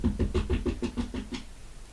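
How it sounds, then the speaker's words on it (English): A cat scratching inside a box, a quick run of about eight rhythmic scraping strokes close by that fade out after a second and a half, with no talking. "One of my cats is sat in a box and decided to have a scratch."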